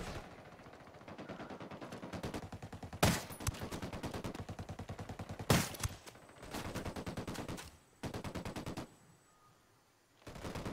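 Rapid automatic gunfire from the video game Ghost Recon Wildlands rattles in sustained bursts, with two sharp, louder shots standing out and brief pauses between volleys before the firing resumes.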